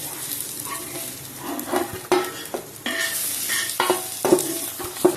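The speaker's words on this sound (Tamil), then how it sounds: "சூப்பரான சிக்கன் லெக் தவா ஃப்ரை ரெடி" Chicken legs sizzle steadily on a hot tawa while a utensil scrapes and stirs at intervals, the frying loud and close.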